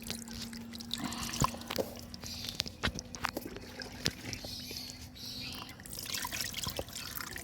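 Water poured gently by hand into a potted lotus, over a leaf to keep it from stirring the mud: a soft, steady trickle with scattered drips and small splashes, close and quiet throughout.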